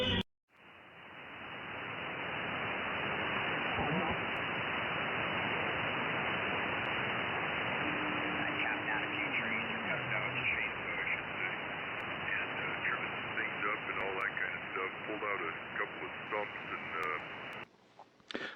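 Radio receiver tuned to a clean band, a steady loud wash of atmospheric hiss and static running nearly the whole length with no interference, briefly cutting off at the start and end.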